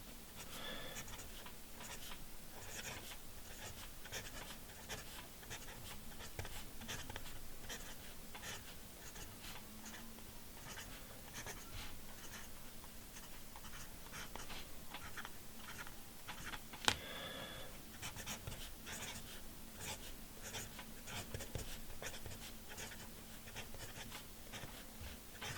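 A broad fountain pen nib scratches steadily across paper, laying down Visconti Green ink in continuous strokes with faint, close, papery friction and small pauses between words.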